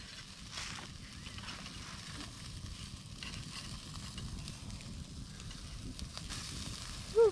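Steaks sizzling while cooking outdoors in the desert, a steady soft crackle and hiss of frying that continues throughout at low volume, with no talking over it.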